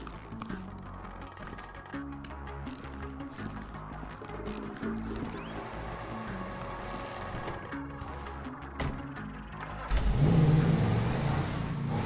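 In the GTA V video game, a car engine hums and revs steadily for several seconds, then surges louder and rougher near the end, with faint game sounds underneath.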